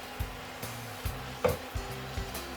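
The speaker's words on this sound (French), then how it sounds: "Je vais bien mélanger. Le piment, l'oignon" Sambal of chili, onion and tamarind being stirred in a pan, with about six distinct scraping, sizzling strokes at a steady rhythm, close and alone.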